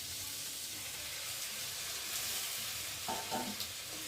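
Fried prawns are sautéed in a cumin-based spice masala, producing a soft continuous sizzle with a few faint stirring scrapes toward the end.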